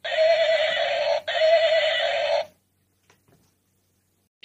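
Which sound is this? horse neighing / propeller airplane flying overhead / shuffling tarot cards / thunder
horse neighing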